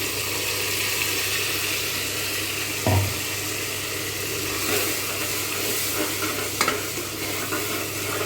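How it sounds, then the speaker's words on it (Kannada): Ground masala paste fries for vegetable pulao, with a constant loud sizzle in the pan and a few stirring clanks close by. "ಐದು ನಿಮಿಷ ಮಸಾಲೆ ಚೆನ್ನಾಗಿ ಫ್ರೈ ಆಗೋಕ್ಕೆ ಬಿಟ್ಬಿಟ್ಟು"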